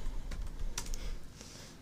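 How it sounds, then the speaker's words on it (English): Quick, uneven clatter of keys as someone types random characters on a computer keyboard, close and fairly quiet, in a short burst. "And I type in garbage."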